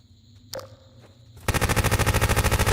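Muffled submachine gun fire from Half-Life 2: Episode 2 breaks in after a quiet stretch and one faint knock, becoming a loud, steady rapid burst of evenly spaced shots that continues to the end.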